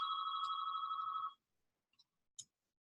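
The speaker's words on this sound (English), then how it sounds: "My phone is ringing, of course." A phone rings in a clear, bright electronic trill for about a second and a half, then stops, leaving near silence broken by a couple of faint clicks.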